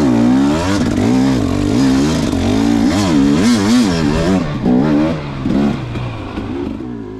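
A dirt bike rides over snowy hills on a cold day, its engine loud and close as it revs and climbs in wavering pitch, easing off toward the end.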